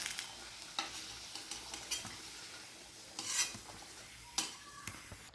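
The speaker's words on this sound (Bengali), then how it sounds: "এখন আলুটাকে তুলে নিচ্ছি" Fried potatoes are lifted out of hot oil with a utensil, making faint scraping clicks and a few sharper taps over a soft, low sizzle, with no talking.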